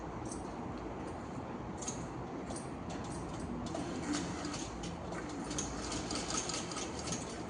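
A sewing machine stitching a V-neck runs quietly, with a fast, even ticking of the needle and occasional brighter clicks over a low hum, close but faint.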